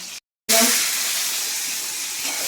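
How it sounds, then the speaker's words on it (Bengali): Panch phoron, a Bengali five-spice mix, hits hot oil in a pan and bursts into a close, steady sizzle after a split-second of silence, holding an even crackling hiss throughout. "পাঁচফোড়নটা ভালো করে ভাজা হোক"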